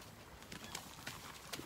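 A horse in a head collar is led on foot, its hooves clip-clopping in a few irregular, soft strikes close by over steady outdoor background noise.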